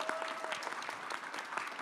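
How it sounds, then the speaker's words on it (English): Audience applause for a guest professor at a pitch competition event, steady dense clapping from a crowd throughout, moderately loud and continuous with no speech over it. "give a big round of applause to Dr. Corinne Bodman as she shares a few thoughts"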